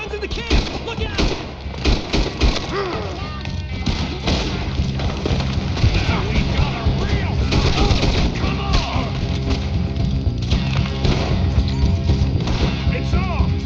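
Gunfire during a camp shootout in Red Dead Redemption 2, a steady barrage of loud close shots and booms packed tightly together, with shouting voices mixed in throughout.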